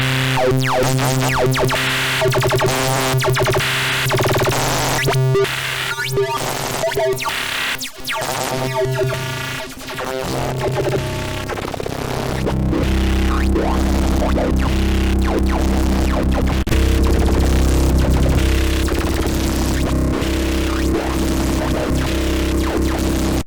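A buzzy, harmonically rich synth saw wave, distorted and filtered, plays a driving rhythmic sequence, then shifts to a denser, sustained gritty texture.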